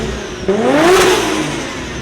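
A Toyota 1JZ car engine revs up sharply, its pitch climbing in one strong rise then easing back toward idle, loud and close with no talking.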